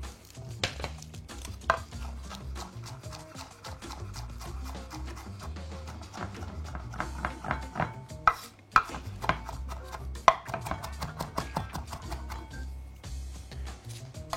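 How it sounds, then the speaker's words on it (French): Fresh parsley and coriander being chopped fairly fine with a knife on a board: quick irregular tapping that stays fairly quiet, over a soft, steady kitchen background with no talk. "Et on va hacher donc les herbes"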